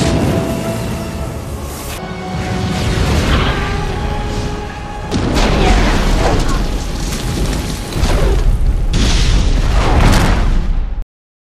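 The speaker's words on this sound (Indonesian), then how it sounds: "oleh karena itu Liz mengeluarkan kemampuannya untuk menciptakan ledakan" Repeated deep booming blasts with crackling debris, loud and rumbling, several explosions following one another over a dense cinematic background.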